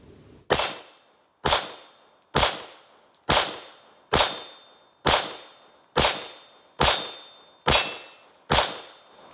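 A SIG P365 pistol with the short 365 grip frame and longer XL slide fires ten evenly spaced sharp shots, each a loud crack followed by a brief ringing decay, at a steady rhythm of roughly one per second.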